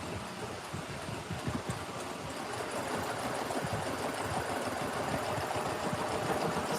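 A sewing machine fitted with a walking foot stitches through thick, bulky layers of a large machine-embroidered quilt, giving a steady mechanical hum and rapid ticking that grows slightly louder, close by with no talking.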